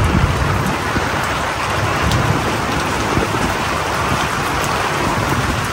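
Heavy rain pours down steadily on a campsite at Gamble Rogers State Park, Florida, a dense, loud roar of drops drumming on surfaces with no pause.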